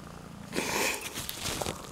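A pet cat purrs softly close by, a low continuous rumble with a slightly louder stretch in the middle and no talking over it.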